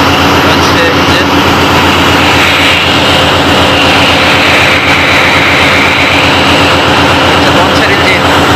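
A large passenger launch engine running loudly throughout: a dense, continuous mechanical roar with a deep steady drone and hum, close and unbroken.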